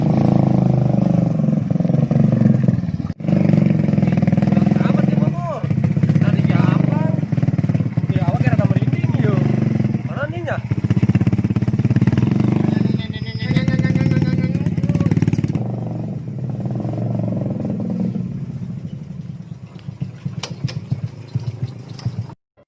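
A motorcycle engine runs loudly and continuously with a rough, rattling rumble, while people talk over it throughout.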